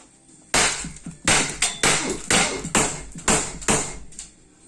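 An LTL Alfa 1.50 launcher fires 18-joule iron balls, giving about eight sharp, loud, close impacts in fairly quick succession, each with a short ringing decay.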